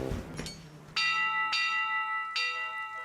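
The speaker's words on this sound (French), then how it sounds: "Oh, cette cloche résonne vraiment fort." A bell rings loudly three times, each strike a bright metallic clang with a long ringing decay that overlaps the next, following a softer knock at the start.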